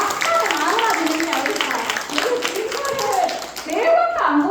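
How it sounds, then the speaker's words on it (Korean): Audience clapping at a Daegu local autonomy 30th anniversary talk event, a scattered burst of applause mixed with voices and chatter, rising again near the end. "박수 한번 주세요."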